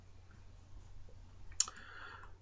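A single sharp mouse click sounds once to exit a PowerPoint slideshow, standing out against a quiet room hum.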